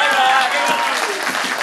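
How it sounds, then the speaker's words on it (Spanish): Audience applause at a guitar school concert during a village cultural week, loud and steady clapping with crowd voices and cheering mixed in for the whole brief moment. "Arriba, arriba, de pie, que os aplaudan bien"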